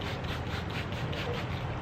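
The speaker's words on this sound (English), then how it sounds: "Begin sanding to reduce the P800 grit scratches to gray P3000 grit scratches" Wet sanding of a car headlight lens with P3000 grit sandpaper and a water mist makes a soft, rhythmic back-and-forth rubbing, close and fairly quiet, repeating in even strokes across the whole stretch.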